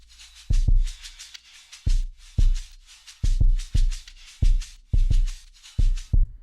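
Percussion loop sidechained to a low kick drum: hissy, shaker-like hits duck and swell around deep, punchy kicks landing in a steady, looping boom-bap groove, loud and alone.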